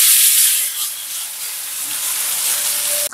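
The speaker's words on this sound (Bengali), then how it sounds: "এবার আমরা ছাঁকা তেলে নুডলস গুলোকে ভালো করে ভেজে নেব।" Noodles deep-frying in hot oil for American chop suey, a steady loud bright sizzle that holds for a few seconds, with no talking.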